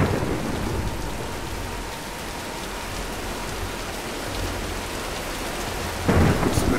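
Heavy rain and a thunderstorm in the Tomb Raider video game make a steady, dense roar of rainfall with rumbling thunder beneath it, swelling louder near the end.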